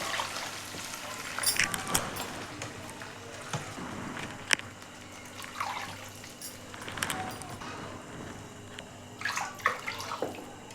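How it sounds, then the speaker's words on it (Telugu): Water is poured into a pan of upma rava for cashew upma, about three cups of water to one cup of rava. The pouring and splashing is fairly quiet and comes in irregular bursts over a low kitchen background. "నీటిని వేస్తున్నానండి"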